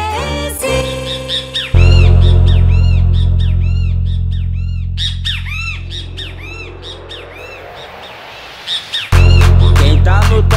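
Great kiskadee (bem-te-vi) calls, loud repeated squawking bird notes, set over a heavy funk remix beat with deep bass and drums throughout.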